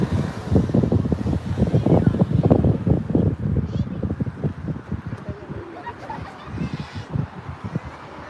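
Gusty wind rumbles and buffets the microphone throughout, with a person talking over the noise, at LAX airport.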